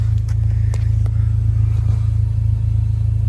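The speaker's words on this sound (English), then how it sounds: "Nice deep rumble." Deep, steady exhaust rumble from a 2004 Acura TSX idling nearby, a continuous low throb with no talking.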